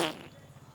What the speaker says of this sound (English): इससे पहले कि मैं शत्रुघ्न वाला पाद मारूं